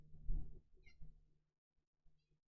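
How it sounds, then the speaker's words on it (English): House cat in a home office gives a couple of short low meows and grumbles close by, with brief quieter chirps between and near silence toward the end. "I gotta banish a cat from my office because he keeps trying to get into a door"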